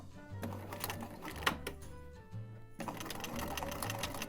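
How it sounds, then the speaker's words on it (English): A sewing machine runs close by in short bursts, sewing rows of straight stitches for a tank top with brief pauses and back stitches between runs. "We're going to do 2 little straight stitch rows to just hold those guys"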